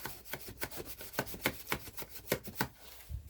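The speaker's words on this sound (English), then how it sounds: "slide it in there and kind of rub that down to make sure it's attached and adhered really well" A ruler rubbed firmly back and forth over a paper piece to press it down onto a cardstock card caddy box, giving a close, steady series of scraping strokes at a quick, regular rhythm.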